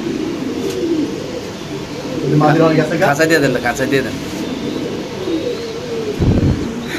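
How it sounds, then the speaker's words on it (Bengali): A domestic pigeon kept for sale coos close by in low, throaty bursts, while someone talks over it in an outdoor setting. "এই ডাকটা দেখানোর লেগে আমি দর্শকরা এতক্ষণ কবুতরটা নিচে নামাইছি"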